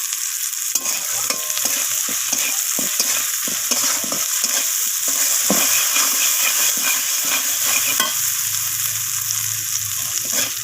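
Spices and ginger paste being stirred and sautéed in a pan for Bengali masoor dal, a steady close sizzle and fry with repeated scraping stir strokes throughout, no talking.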